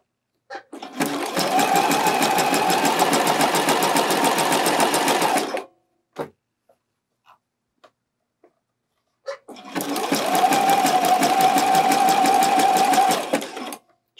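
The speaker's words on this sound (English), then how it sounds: "I'm trying to get my stitching close to this edge of the elastic." A sewing machine stitches elastic onto a bralette in two steady runs of several seconds each, with a pause of faint handling clicks between them.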